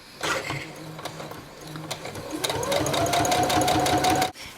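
A sewing machine stitches down a false flat fell seam, its motor winding up into a fast, even run of close, loud stitching that stops abruptly at the end.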